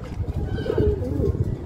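A pigeon without a leg ring coos in a short, soft, low warble at close range, with faint background murmur around it.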